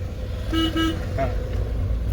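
Two short car horn toots sound in quick succession during a driving lesson, fairly loud over a low steady engine and road rumble, with a brief faint voice just after.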